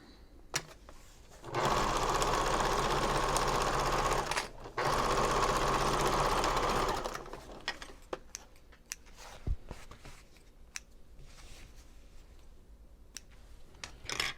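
A home sewing machine runs in two steady bursts of stitching on a braided boho bag, a loud even whir that stops briefly near the middle, followed by quieter clicks and handling noises.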